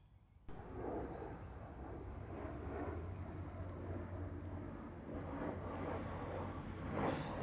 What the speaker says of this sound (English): I like to think that airport is where that plane's going